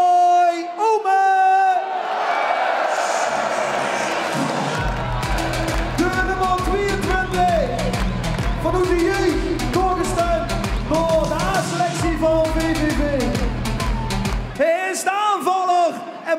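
A crowd at a VVV-Venlo championship celebration cheers and applauds for a football player as his name is announced, with loud sustained shouting and whooping over booming music and a voice over a PA.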